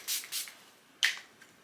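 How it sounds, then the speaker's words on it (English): Short hissing bursts from a Timeless HA rose extract face mist spray bottle: two quick pumps close together, a pause, then a third sharper spritz, close up and otherwise quiet. "This is Timeless HA spray. It's their rose extract."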